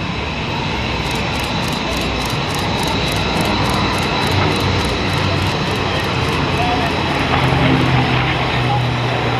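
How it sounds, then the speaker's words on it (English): A 1,700-horsepower Packard-built Rolls-Royce Merlin aircraft engine powers a fly-past at a military open-house air show, heard as a loud, steady droning roar that continues throughout. "The Packard-built, Rolls-Royce-designed Merlin engine."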